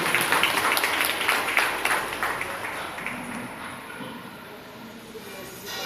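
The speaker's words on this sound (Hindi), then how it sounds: "जोरदार तालियां।" Audience applause at a BJP party event ceremony, dense clapping loudest at the start and gradually fading over several seconds, with faint voices underneath.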